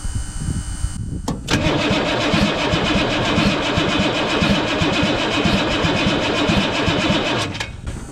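A 1983 Chevy squarebody diesel truck engine cranks and catches after a brief start attempt, then runs at a loud, steady, rough diesel clatter for several seconds before cutting off near the end.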